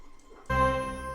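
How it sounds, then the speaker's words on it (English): A dense sustained string texture from an Opus Orchestrator orchestral violins preset in Penderecki style swells in suddenly after a near-silent start and holds steadily to the end. "Now notice the violins penderecki."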